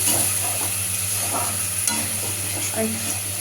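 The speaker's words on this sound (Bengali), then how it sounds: "একটু ভালো করে মশলাটা কষিয়ে নিয়ে" Spice paste sizzles in hot oil in a pan while a spoon stirs and scrapes it, giving a continuous loud frying hiss broken by a few irregular clinks and scrapes.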